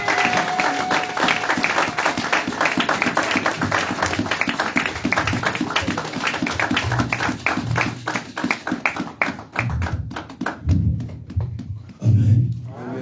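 A church congregation applauding to welcome the pastor: dense, rhythmic clapping from a large crowd, steady and loud, then thinning out near the end as a few voices come through.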